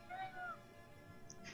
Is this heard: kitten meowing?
yes